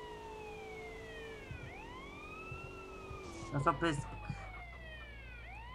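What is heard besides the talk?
police car siren in video game GTA San Andreas Multiplayer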